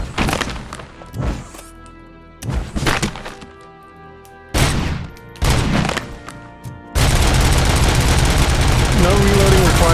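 Gunfire from a gun with unlimited ammo in the video game RoboCop: Rogue City, loud bursts of rapid shots with brief pauses, then a sustained continuous roar of fire near the end.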